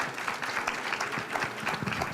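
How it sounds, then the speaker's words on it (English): Audience clapping at a town planning workshop in Pescadero, a steady, dense round of applause from a room of attendees, sustained for a couple of seconds without a break. "So applause, please, for the people who put a lot of work into making this a very effective and efficient meeting"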